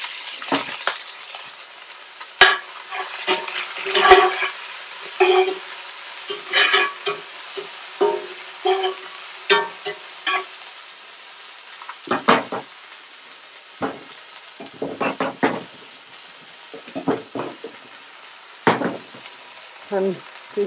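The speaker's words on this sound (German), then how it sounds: "da kommt jetzt in den Dutchofen ein Öl hinein. Und da mal Zwiebeln hinein." Onions fry in oil in a Dutch oven on a Weber kettle grill with a low sizzle broken by repeated stirring clatters and scrapes, with no talk.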